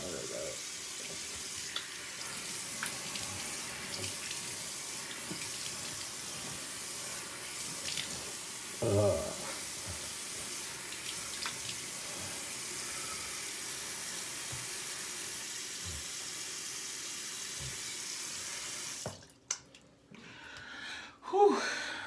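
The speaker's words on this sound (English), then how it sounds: "Time for cold rinse." Cold water runs steadily from a tap as a freshly shaved head is rinsed, making a continuous close hiss for most of the stretch before it cuts off near the end, with a few faint breaths and shuffles.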